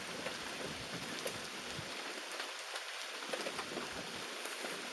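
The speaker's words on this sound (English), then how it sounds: "Oh, it's raining." Steady rain falls outside by a porch, a dense, even patter of drops on surfaces, close and continuous with no voices.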